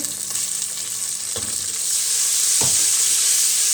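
Loud, steady sizzling and crackling of garlic and onion frying in a hot pan, with a couple of soft clinks as it is stirred.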